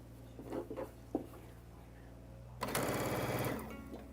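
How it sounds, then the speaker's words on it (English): A sewing machine stitches a double pinwheel quilt block in a short, close burst of rapid whirring after a few soft handling noises and faint talk. "All right, so now I'm going to sew down the next"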